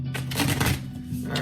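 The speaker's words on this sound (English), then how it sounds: "We're gonna do a couple more shuffles," Cards riffle and slap in quick, papery bursts of shuffling, close by, with a low hum underneath.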